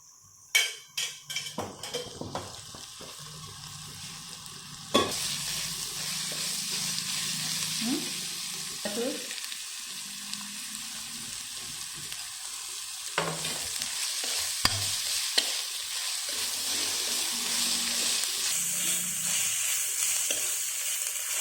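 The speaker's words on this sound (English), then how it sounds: "Just keep on stirring it" Chicken curry frying in ghee while being stirred, a soft continuous sizzle broken by occasional scraping strokes and light clanks of the spoon against the pan, fairly quiet overall with no voice.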